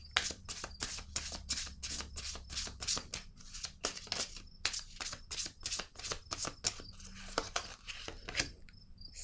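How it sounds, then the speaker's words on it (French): Tarot cards being handled and drawn from a deck, with a close run of quick, crisp flicks and riffling snaps in uneven bursts over a quiet background. "Je vais piger une autre carte."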